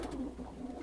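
Pigeons coo softly at a dovecote housing high-flying birds, a brief, low, murmuring coo that is faint and close, with no speech.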